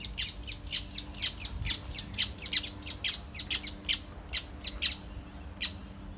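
Small bird chirping repeatedly in a cemetery, a steady series of short high tweets at moderate distance over a low background rumble, no talking.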